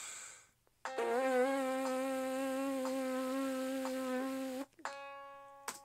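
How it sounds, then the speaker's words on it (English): Trumpet player's free lip buzz a half step up, without a mouthpiece: a sustained, reedy buzzing tone lasting nearly four seconds, close and steady, with short reference pitches sounding before and after it. "then buzz up a half step"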